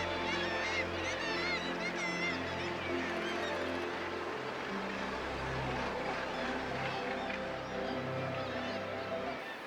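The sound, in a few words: gannet colony calling at Bempton Cliffs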